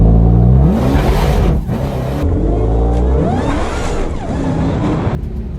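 A Dodge Demon 170 drag car's engine roars and revs hard up close as its wheels spin at launch, pitch climbing and dropping through a sustained high-power run, with a rough grinding edge.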